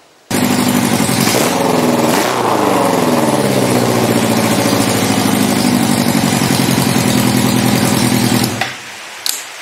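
A race mower's small engine is started and held at a loud, steady buzzing rev, the pitch dipping briefly early on before it cuts off near the end.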